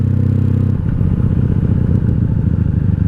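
A 1997 Honda Magna 750 V4 motorcycle engine rumbling with a steady, loud, throbbing idle, close by, with a slight change in pitch partway through.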